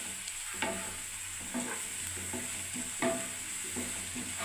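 Sliced onions frying in oil to make crisp fried onion, a continuous close sizzle with spatula stirs and scrapes clicking through it, moderately loud and without talk.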